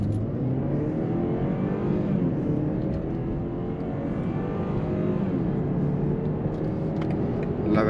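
A 2021 BMW 420i with 184 hp accelerates hard in Sport mode, its engine note climbing steadily through rising revs, loud and continuous from inside the cabin with no talk.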